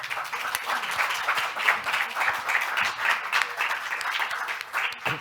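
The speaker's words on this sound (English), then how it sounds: "give these amazing young people a really fantastic round of applause for that fantastic session" An audience applauds after a youth health policy session, with dense, sustained clapping throughout at a moderate level and no speech.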